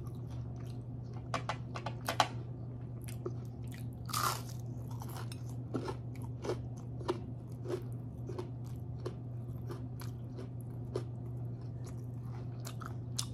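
Crispy fried enoki mushroom crunched and chewed up close, with a steady stream of sharp, crackly bites and chews over a quiet, constant background hum.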